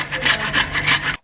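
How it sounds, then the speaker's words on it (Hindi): Fresh peeled ginger is crushed in a hand grinder, giving a close, rhythmic rasping scrape in about four strokes before stopping abruptly. "हैंड ग्राइंडर की मदद से मैं इसे ग्राइंड कर रही हूँ।"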